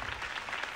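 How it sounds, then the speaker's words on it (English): Crowd applause in Batman: The Telltale Series, a brief patter of many hands clapping at a moderate distance, steady and fairly soft. "could have heard that applause"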